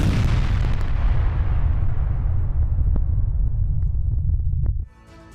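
Heavy explosions from a Russian missile attack in Ukraine: a continuous deep, loud rumbling blast with sharp cracks on top, lasting about five seconds before cutting off abruptly.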